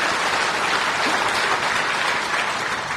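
An audience claps together for about three seconds, a full, even burst of applause from many hands in a hall, loud and sustained without any speech over it.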